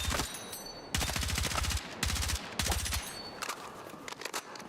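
Automatic rifle fire in Battlefield 6, several rapid bursts of close, sharp shots with short gaps between them, followed by fainter distant gunfire and movement.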